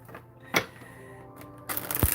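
Tarot cards being shuffled, heard as a brief snap of cards followed later by a short burst of riffling and rustling near the end, close and fairly quiet.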